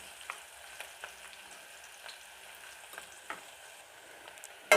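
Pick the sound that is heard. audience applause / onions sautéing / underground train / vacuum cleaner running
onions sautéing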